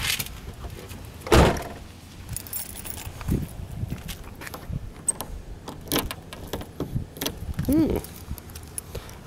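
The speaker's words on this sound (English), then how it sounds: "Let me get these keys out and show you in the trunk." Car keys jangling beside a Buick Skyhawk J-body coupe: a loud metallic rattle near the start, then softer scattered clinks and handling noises, with a door-like mechanism sound later, close by and without talking.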